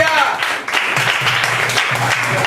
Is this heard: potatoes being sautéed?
no